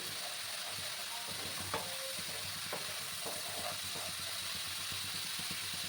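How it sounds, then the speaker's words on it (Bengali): Onions sautéing in oil in a pan over raised gas heat for a spicy wallago fish curry, a steady soft sizzle with faint stirring scrapes throughout, no talk. "পেঁয়াজটার কাঁচা গন্ধটা না দেওয়া অব্দি আমাকে কষিয়ে যেতে হবে"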